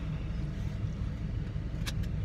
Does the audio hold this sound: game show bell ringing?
no